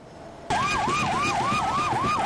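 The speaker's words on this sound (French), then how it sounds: "C'est au son des sirènes de ces véhicules" Sirens of official vehicles arriving for a national deputy and state ministers in Congo, a loud wailing siren that rises and falls in steady repeated sweeps after a quiet start, with traffic underneath.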